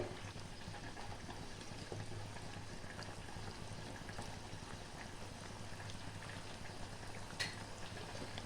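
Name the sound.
potatoes and vegetables boiling in a covered pot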